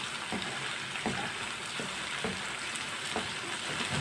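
Okra (bhindi) fries steadily in a pan, browning lightly after about four minutes of cooking, with a constant close sizzle and a few soft scrapes and stirs at intervals.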